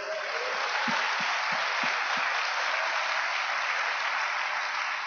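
A church congregation applauds during a sermon, dense continuous clapping at an even level that fills the whole stretch, with a few soft low thumps near the start.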